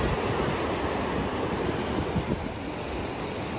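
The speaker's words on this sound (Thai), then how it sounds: "นี่จะเป็นทะเลนี่" Sea waves along the coast at Torrey Pines, San Diego, roll in as a steady broadband wash of surf with some wind rumble, continuous and fairly close throughout.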